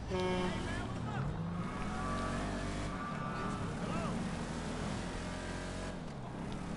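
Vapid Ellie muscle car in GTA Online drives with a steady engine drone that revs and shifts pitch, loud and continuous, with a voice talking over it.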